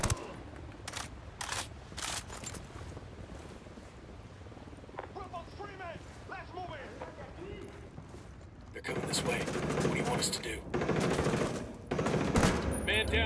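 Gunfire in Tom Clancy's Ghost Recon Wildlands: spaced sharp single shots early, brief voices in the middle, then a loud stretch of rapid repeated gunfire with heavy blasts near the end.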